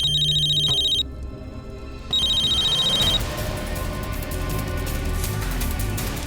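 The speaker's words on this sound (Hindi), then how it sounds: "प्लीज प्लीज फोन उठाओ" A telephone rings in repeated electronic trills, loud and close, with a brief gap between rings, then gives way to busier background sound and a dull rumble toward the end.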